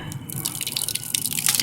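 Water from a rainwater collection unit with a screen on top pours and splashes steadily just outdoors, a bright, busy trickle heard up close with no speech.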